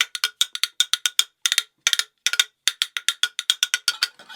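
Hollow welded steel bones, open at one end and closed at the other, are clacked in fast, rhythmic triplet-like patterns. Their bright metallic clicks ring close and loud, with short gaps between phrases.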